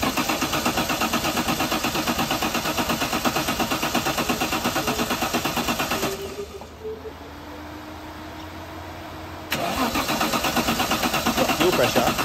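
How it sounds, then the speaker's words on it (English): A Nissan 200SX engine cranking on its starter motor: a rapid, steady mechanical churning for about six seconds, a pause, then renewed cranking, loud and close in a garage. "He's going to be on the starter motor."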